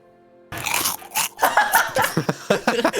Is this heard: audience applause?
no